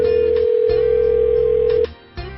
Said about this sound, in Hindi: 6 महीने पहले ऑफिस में आशीष के पास एक फोन आता है